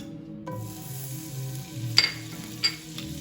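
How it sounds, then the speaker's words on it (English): Butter melting and sizzling with olive oil in a pan for steak Diane, a soft close sizzle with a few light clinks and scrapes of a utensil, quiet and without talk. "And get that butter melted in there with the olive oil"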